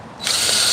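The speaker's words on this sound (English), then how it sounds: "Let me put a couple more support screws in here" A power drill drives a support screw into the frame of a large iguana enclosure, a short close whir that starts abruptly and holds steady.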